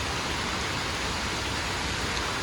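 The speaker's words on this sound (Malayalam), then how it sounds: "മഴ നന്നായി കൂടി," Heavy rain pours in a forest near a waterfall, a dense, even roar of rainfall on leaves and ground that is loud and unbroken with no voices.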